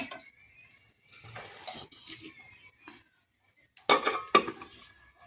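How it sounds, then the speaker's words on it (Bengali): A lid goes onto a pot of chicken cooking with ghee and black pepper, producing scattered metallic clinks and scrapes, then two sharper clanks near the end. "দিয়ে আপনারা ঢাকা দিয়ে দিন।"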